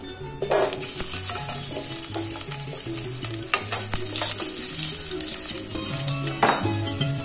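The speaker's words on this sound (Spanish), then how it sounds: "Vamos a echarle nuestros dientes de ajo, yo los dejo así en trozo" Garlic cloves dropped whole into hot oil in a pot, sizzling and frying steadily with a scrape of stirring and light clinks of utensils against the pot throughout.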